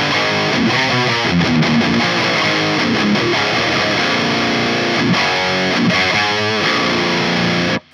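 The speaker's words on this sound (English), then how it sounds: "I can already hear some kind of mid distortion going on there." Heavily distorted electric guitar through a 5150 or 6505 amp, loud and continuous with a gritty, saturated mid-range buzz for several seconds.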